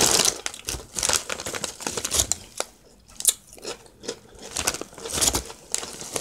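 Flamin' Hot Ruffles potato chips crunch up close in a series of crisp, irregular bites and chews, with bag-like crinkling between them and no talking.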